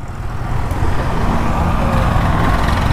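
A tractor engine drones loudly and steadily on a narrow forest road, a close, continuous rumble with no break.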